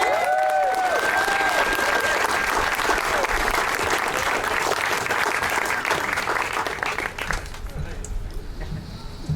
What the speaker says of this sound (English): let's give a big round of applause to Duluthian David Everett.